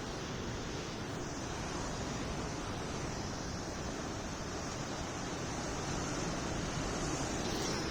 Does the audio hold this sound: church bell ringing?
no